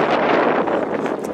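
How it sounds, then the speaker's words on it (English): Steady wind gusts roar across the microphone outdoors at a family farm just outside a barn, a continuous loud rushing with no talking. "it's just got windy all of a sudden because we're not inside the barn anymore"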